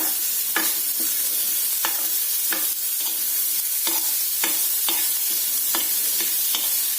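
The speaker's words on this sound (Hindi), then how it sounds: "अब इसके अंदर डालेंगे चॉप की हुई गाजर। ये बहुत ही बारीक चॉप की हुई है। इसको भी सौटे कीजिए।" Finely chopped carrots sauté in a pan for bread pizza, heard as a constant bright sizzle broken by regular scraping stirs about every half second, close and fairly loud, with no talking.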